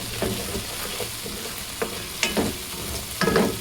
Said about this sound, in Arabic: وهقلبه كده كويس جدا مكان تحمير الفراخ والتشويحة لحد ايه ما اتأكد ان السكر داب معايا